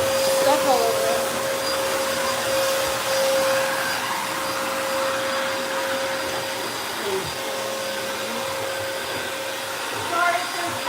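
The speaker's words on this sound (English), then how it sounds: "I'm vacuuming the stairs." A vacuum cleaner runs steadily up close while cleaning carpeted stairs, a continuous loud whine with a sustained tone that holds for the whole stretch, a few brief bumps and shifts in pitch as it moves.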